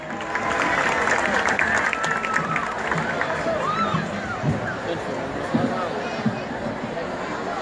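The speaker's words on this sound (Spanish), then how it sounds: "La recibimos con un fuerte aplauso." A crowd applauds at an outdoor ceremony in Parque Duarte, La Romana, marking 175 years of national independence: dense, sustained clapping mixed with crowd noise that holds steady for several seconds.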